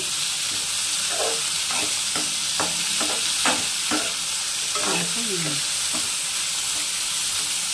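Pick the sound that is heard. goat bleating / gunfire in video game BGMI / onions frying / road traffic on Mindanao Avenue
onions frying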